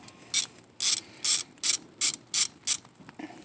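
A ratchet wrench clicks in seven quick, evenly spaced bursts while loosening the small brake caliper bolts on a 2012 Honda Fit, close up with no voices.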